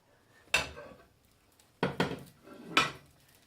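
Garlic naan bread is flipped in a pan, making three distinct metallic clatters of utensil against cookware, each followed by a short ringing tail, against a quiet background.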